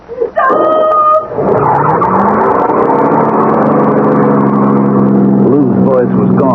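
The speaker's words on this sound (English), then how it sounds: "drowned by the roar of the engine" A car engine roars and revs in a radio drama, rising sharply after a brief sound at the start and then holding loud and continuous, with a voice briefly over it near the end.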